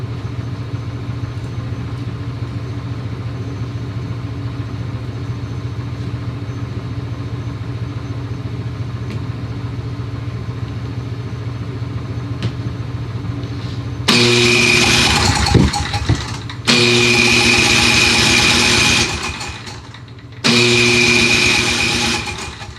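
A Briggs & Stratton 9.6 hp OHV engine runs a 29-inch Craftsman snowblower, a steady loud mechanical drone that surges sharply louder in bursts as snow is fed in, with brief drops between.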